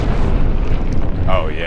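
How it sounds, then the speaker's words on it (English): A high-speed explosion blasting apart a .50 cal rifle barrel, its shockwave kicking up dust from the ground: a loud, sustained roaring rumble throughout, with a faint voice near the end. "But watch the shockwave on the ground kick up all the dust."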